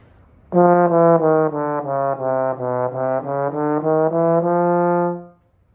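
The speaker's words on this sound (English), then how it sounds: "There's the in the partial slur, which sounds like this" A lone trombone plays an in-the-partial slur, a smooth legato line of about a dozen connected notes moving within one harmonic, close and clear, ending in a sustained held tone with no talking.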